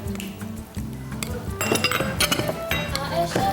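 Utensils clink and scrape against a bowl as ingredients with soy sauce are stirred together in a Filipino cooking segment with Chef Boy Logro, producing repeated bright taps and rattles at close range.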